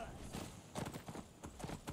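Horse hooves in the video game Skyrim, heard as soft repeated clip-clop steps at night, fairly faint, with a voice speaking over them.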